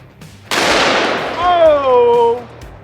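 A single sharp rifle shot fires a 240 grain jacketed soft point into a cast iron Peerless 2300 transmission. One loud crack is followed by a ringing metallic whine from the struck iron that fades out after about a second.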